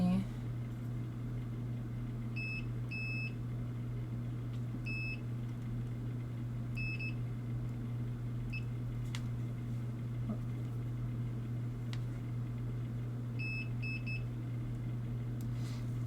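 A multimeter in continuity mode beeps during short testing on a Nintendo Switch circuit board: brief high beeps in small clusters, spaced several seconds apart, over a steady low electrical hum.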